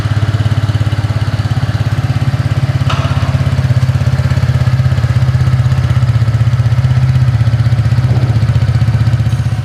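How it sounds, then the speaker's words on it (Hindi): A 125cc scooter engine idles loudly and steadily nearby, its exhaust putting out an even, rapid low throb without variation. "चलिए इसका एग्जॉस्ट साउंड सुनते हैं"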